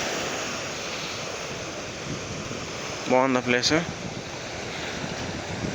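Sea waves break on a beach with a steady close rush of surf and wind noise, and a short burst of voices cuts in midway.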